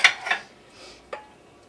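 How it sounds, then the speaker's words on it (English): Cupcake batter is spooned into paper cupcake wrappers, giving two quick clinking scrapes of utensil on bowl, then a single light tap a moment later, close and fairly quiet with no talking. "now we're going to put the cupcake mix into these cupcake"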